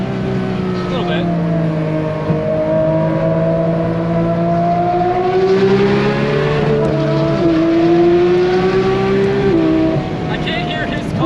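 A 992 GT3 RS sports car engine drones and rises through gear changes with a throaty induction note, steady and close, while people talk over it inside the cabin with windows down, driving in the Smokies.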